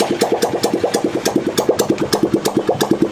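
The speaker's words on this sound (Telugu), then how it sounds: "ఒకసారి ఇంజిన్ బీటింగ్ అయితే ఇనేసేయండి." A repaired vehicle engine runs with no battery fitted, a loud, close, rhythmic chugging beat, regular pulses repeating rapidly and evenly throughout.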